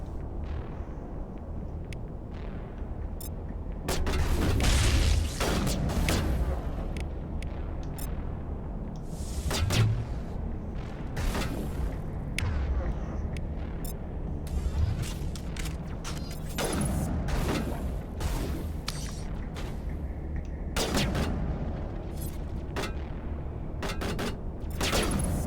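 Rocket fire and heavy explosions in the Mass Effect video game, repeated loud blasts and bursts of gunfire over a constant rumbling battle bed, with sharp impacts spread throughout.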